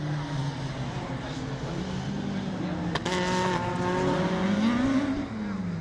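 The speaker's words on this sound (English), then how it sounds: "Derek Jobb brakes hard, turns through the right-hander. He's back on the power now." A retro rallycross race car at a British Rallycross round brakes hard into a right-hand corner, then its engine revs climb loudly as it powers out, close and continuous throughout.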